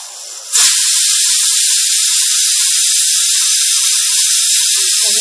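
A pressure cooker cooking lentils for sambar lets out steam: a faint murmur first, then a sudden loud hiss that holds steady and close for several seconds, alone.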